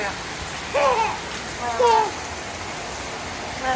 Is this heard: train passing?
no